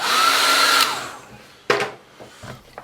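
A hair dryer drying watercolour paint on a landscape painting blows steadily and loudly for almost a second, then switches off and its whine falls away, followed by a few soft knocks and handling sounds.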